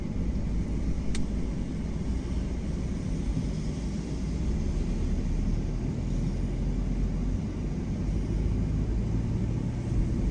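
A car drives through the streets of St Peter Port, Guernsey, its engine and road rumble a steady low drone heard from inside the vehicle, with no talking.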